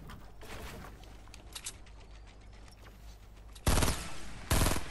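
Faint scattered gunfire crackles in the background of a Fortnite: Battle Royale 50 vs 50 match, followed by two loud, close bursts of rapid shots near the end.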